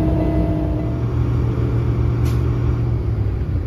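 A Class 1 truck's engine runs at a steady idle to build air brake pressure, a loud continuous close rumble with no talking.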